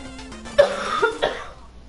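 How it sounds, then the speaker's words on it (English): A person coughs in the background while a video game plays. A couple of sharp coughs and a rougher follow-up sound over a soft, steady game tone. "My roommate's gonna be coughing in the background."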